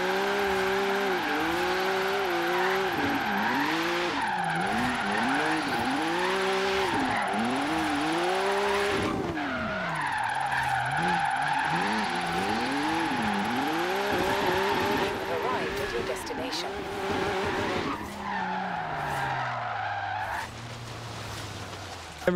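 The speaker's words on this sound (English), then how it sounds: "Got a little bit of drifting going to try to beat my buddy's score" BMW M2 drifting through a drift zone challenge, engine revving and sweeping up and down in pitch while tires squeal almost continuously, loud and close, with brief voice sounds mixed in.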